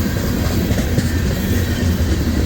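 Union Pacific freight train on the Omaha subdivision near Crescent, Iowa, rolling past with a steady, loud broadband rumble of wheels and cars, continuous throughout and close by.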